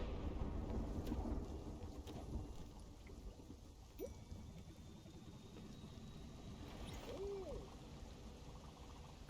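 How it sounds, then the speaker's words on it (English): Video game thunderstorm: steady rain hisses with deep rolling thunder, a few sharp crackles and a rising tone midway; no voices. "I love rain so much I could stay under it for days."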